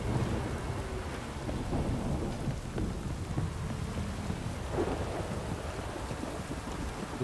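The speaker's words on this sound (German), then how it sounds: "Es könnte echt mal aufhören mit regnen." Steady rain and low rumbling thunder in the video game The Witcher 3, a constant dense wash of rainfall with deep rolls underneath and no talking.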